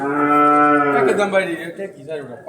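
A Sahiwal calf at a cattle market gives one long, loud, close moo that trails off into softer lowing, with no talk over it.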